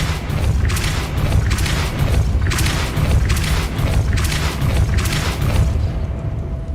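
A Depulso spell blasts in Hogwarts Legacy, heard as a run of repeated heavy booming thumps, loud and close, with a steady low rumble between them.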